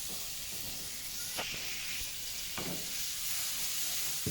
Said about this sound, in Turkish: Evet şimdi biberimi ilave ediyorum.